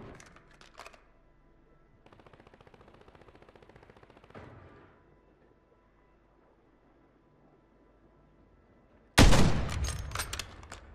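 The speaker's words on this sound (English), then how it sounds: "I hope that's you shooting" Bursts of automatic gunfire and rapid shots in a Call of Duty match: short sparse pops, a steady rattling burst of fire, then a loud close volley of sharp shots near the end, with quiet stretches between.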